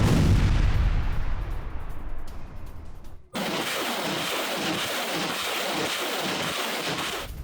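Russian artillery and rocket barrage strikes Ukrainian positions: a heavy, rumbling blast rolls and fades, then is abruptly cut off by dense, sustained crackling and roaring noise, loud throughout.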